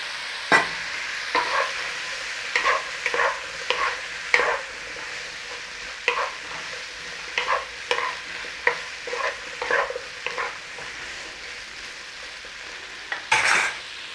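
Brussels sprouts, chestnuts and pancetta frying in a pan, with a soft sizzle under a run of distinct scraping stirs that come in irregular bursts, close and fairly quiet, with no talking.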